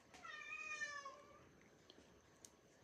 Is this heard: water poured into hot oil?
no